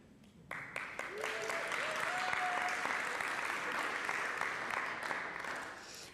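Sustained applause from an audience fills the room, steady and fairly loud throughout, with a few brief whistle-like tones rising above the clapping.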